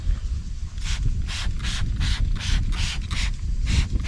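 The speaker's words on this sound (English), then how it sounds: "I'm gonna go ahead and spray this panel." A spray bottle of Eagle One iron remover pumped over and over onto a car panel in a steady rhythm, each squeeze giving a short hissing spritz, close and fairly loud.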